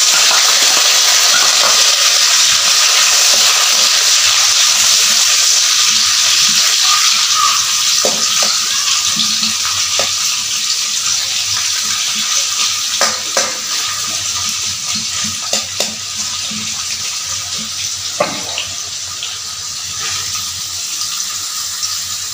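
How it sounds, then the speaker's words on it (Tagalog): A steady, loud sizzle of carrots frying in a pan, with occasional light clinks of a utensil stirring toward the end. "Bukod pa nating i-prito ang ating carrots."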